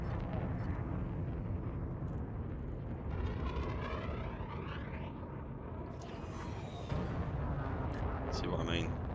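Spaceship weapons fire in a space combat in Elite Dangerous, a dense, rumbling roar of blasts and zapping sweeps under steady engine noise, loud throughout, with someone talking over it.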